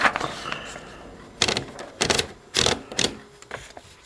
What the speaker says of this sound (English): Just pop the paper in.